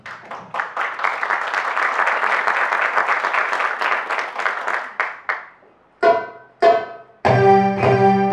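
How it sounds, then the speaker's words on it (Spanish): A burst of loud audience applause welcoming a belly dancer, gradually fading out, followed by a few bright notes from an oriental-style orchestra starting up. "Ahora recibimos con un fuerte aplauso a la bailarina Astrid Álvarez."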